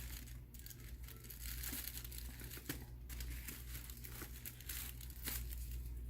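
Decorated tissue paper wrapping crinkles and rustles steadily as a package is unwrapped, with a few sharper tearing crackles over a low background hum.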